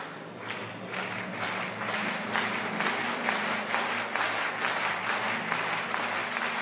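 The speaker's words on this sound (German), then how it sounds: "Mit Ihrem Beifall können Sie Ihr Mut machen" A circus audience claps in sustained, even applause that fills the hall, a dense wash of many hands at a steady level throughout.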